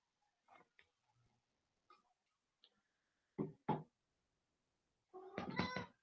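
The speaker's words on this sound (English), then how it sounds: "Come on, cat. That's my cat." A cat meows a few times at close range, short calls separated by quiet gaps, ending with a louder, drawn-out meow.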